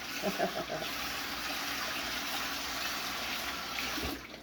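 Water runs steadily from a kitchen tap while chocolate is washed off a measuring cup, a continuous close splashing rush with a few brief clinks and a short voice at the start.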